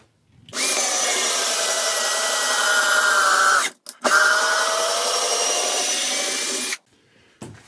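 Virutex ATB40 12V cordless drill driving a 12 cm screw along the grain into 22 mm OSB board, a loud strained whine running for several seconds with one brief pause midway before stopping.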